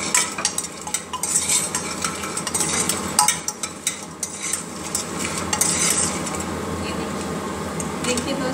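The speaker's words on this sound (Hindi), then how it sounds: "ये भून गई है हमारी बड़ी, अब हम इसको अलग प्लेट में निकाल लेते हैं।" Badi lentil dumplings fry in a pan with a steady, close sizzle, overlaid by frequent scraping and clinking as a spoon stirs them.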